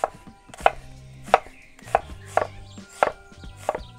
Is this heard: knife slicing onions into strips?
yes